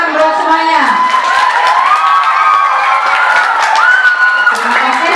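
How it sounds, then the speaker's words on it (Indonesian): Audience at a morning community health nutrition event in Jakarta cheers and whoops with applause, a loud, continuous crowd roar with children's shouts and a voice over a microphone through the whole stretch. "Tepuk tangan buat semuanya."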